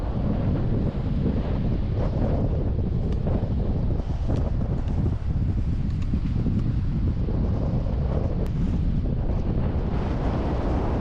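Strong wind buffets the microphone at Maringo Beach on the NSW South Coast, a steady loud roar with gusty rumble and surf underneath, continuous throughout with no talk.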